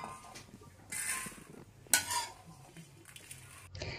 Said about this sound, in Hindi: ओट्स को अच्छा से फ्राई कर लीजिए।